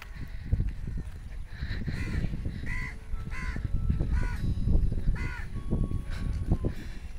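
Crows caw repeatedly on a college campus, several harsh calls in irregular bursts over a steady outdoor background rumble, fairly close and clear, with no talking.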